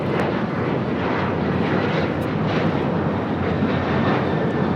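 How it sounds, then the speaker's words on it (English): A Delta Airlines Boeing 737-900ER takes off with a loud, continuous jet engine roar that stays dense and powerful throughout. "That was Delta Airlines"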